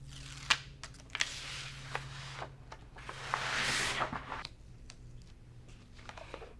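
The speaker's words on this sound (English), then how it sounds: "So I'm just going to pull the sticky off of the back." Adhesive backing being peeled from a picture frame board for mounting cross stitch fabric, heard as a long crackling tear in the middle with scattered small clicks and handling sounds around it, close and fairly quiet.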